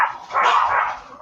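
A dog barks once loudly and close, a single sharp bark followed by the start of another at the very end, heard over a livestream audio feed.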